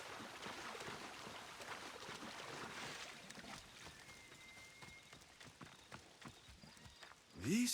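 Horse hooves clip-clop steadily in the game Assassin's Creed Odyssey, a repeated rhythmic clatter over a continuous bed of water and ambient noise, with a brief louder sound near the end.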